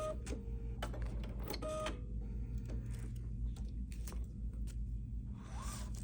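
A home embroidery machine stitching a placement line for a wallet project, giving a steady low mechanical hum with rapid needle chatter and a few brief clicks throughout.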